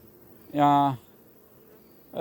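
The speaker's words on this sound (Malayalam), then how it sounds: "ഇത് കരിഞ്ഞൊടിയനാണ് കറുത്ത ഈച്ചകളാണ്" Black Karinjodiyan honey bees at a brood chamber give a brief, strong, steady buzz of about half a second, close and clear, before fading to quiet background.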